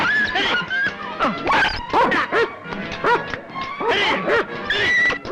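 Several dogs bark, yip and whimper close by in an excited, uneven burst of overlapping calls that keeps going throughout.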